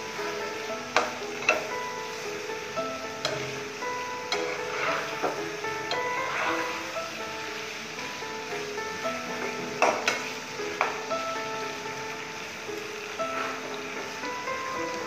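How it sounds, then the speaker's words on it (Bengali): Raw mango with spices stirred in a pan over the stove, with steady soft sizzling and scattered light scraping and tapping of the spoon against the pan throughout. "এখন আমি মশলা দিতে আমটা ভালো করে মিশিয়ে নিব।"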